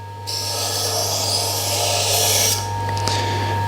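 A Tormek T1 sharpener grinds a kitchen knife with a steady, close hiss and whine under a constant motor hum, lasting a few seconds before easing off.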